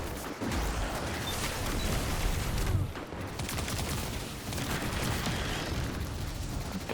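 Video game combat with a grenade detonating amid dense gunfire, a continuous loud barrage of shots and blasts with a brief dip midway, no talking.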